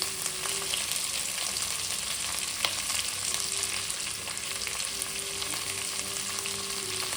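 Onion and green chillies fry in a pan with a steady, close sizzle, dotted with faint crackles and soft stirring.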